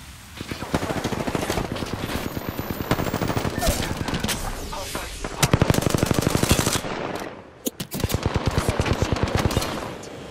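Rapid automatic gunfire in a shooter game rattles in long, loud bursts with brief pauses between them, dense and close, with some voices mixed underneath.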